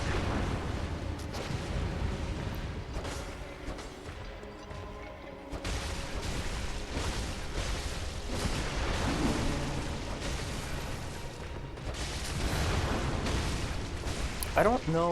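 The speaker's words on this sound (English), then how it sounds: "I don't know if I can proc a visceral with when somebody's firing their blunderbuss at me." Blunderbuss shots fired by an enemy in the game Bloodborne, inside the Pthumeru Labyrinth: loud booming blasts and bursts over dense game noise, repeated through the stretch, with talk heard throughout.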